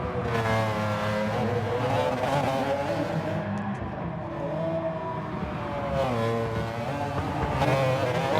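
Race cars lapping a track in a racing video game, engines droning at a high pitch as they accelerate and shift, loud and steady throughout with no voices over them.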